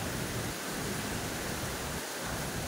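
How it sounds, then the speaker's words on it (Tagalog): Dense, steady typhoon downpour roars continuously amid flooding, a heavy broadband hiss of rain with no voices and no breaks. "Lakas ang ulan, oh. Pinabahan na."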